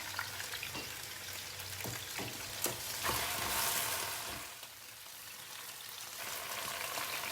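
Chye sim greens hit a hot pan and fry with a steady, bright sizzle and crackle, broken by a few scraping stirs up close.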